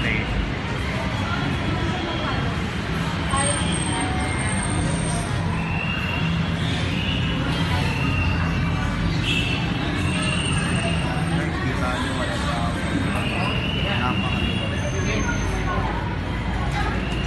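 Inside an LRT light rail station in Metro Manila during the COVID-19 lockdown, a loud, steady wash of rumbling ambience with a soft babble of voices and faint high tones drifting through, unbroken throughout.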